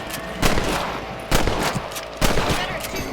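Three sharp rifle shots at rabbits in the Red Dead Redemption game ring out at roughly one-second intervals, each a loud crack with a short rumbling tail over quiet outdoor ambience.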